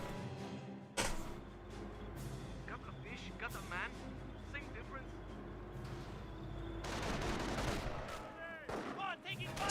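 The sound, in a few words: MG-42 machine gun and sniper fire in video game Company of Heroes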